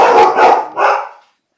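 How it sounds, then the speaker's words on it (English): Dogs bark loudly and close by in three quick overlapping barks, then go abruptly silent. "dogs."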